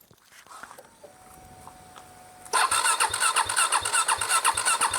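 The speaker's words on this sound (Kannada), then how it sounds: "ಇವಾಗ ನಮ್ಮ KTM ಇದ್ರದ್ದೊಂದು ಸ್ಟಾರ್ಟಿಂಗ್ ಎಂತ ಇದೆ, ಎಕ್ಸಾಸ್ಟ್ ನೋಟ್ ಕೇಳಿಸ್ಬಿಡ್ತೀನಿ ಆಯ್ತಾ" A KTM RC 390 motorcycle sits quiet through a faint starter whine. The engine then catches and bursts into a loud, close, rapidly pulsing exhaust note that holds steady to the end.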